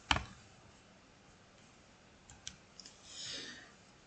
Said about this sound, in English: type that in the calculator.